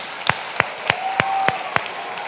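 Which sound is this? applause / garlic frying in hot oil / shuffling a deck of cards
applause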